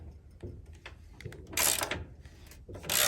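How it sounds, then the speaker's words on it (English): A socket wrench ratchets nearby, clicking as it loosens a large bolt on a Woodland Mills HM122 sawmill, with two louder bursts of rasping mechanical noise. "I use a 15/16 English socket. It fits pretty good. And I've got a wrench back here on the back side"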